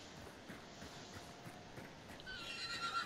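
A horse in the Hunt: Showdown video game whinnies amid steady hoof clip-clops, the neigh rising near the end over a constant outdoor hiss.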